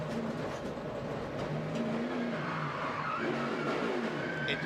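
NASCAR stock cars wreck during the Coke Zero 400 race, tires skidding and squealing over a continuous roar of engines from a distance, with no speech.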